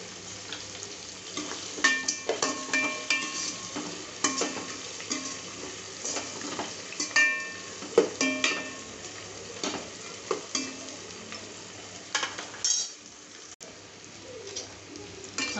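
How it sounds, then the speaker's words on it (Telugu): Onions sizzle in a pan with curry leaves for vegetable pulao while a utensil stirs them, giving repeated scraping clinks over a soft, steady fry, with birds cooing faintly in the background. "ఆనియన్స్ బాగా వేగుతున్నాయి"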